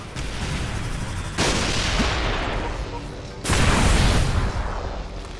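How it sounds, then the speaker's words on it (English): Rockets fired and exploding in Star Wars: The Clone Wars – Republic Heroes give two loud, broad blasts a couple of seconds apart, each followed by a rumbling decay, over a constant background of battle noise. "Rockets!"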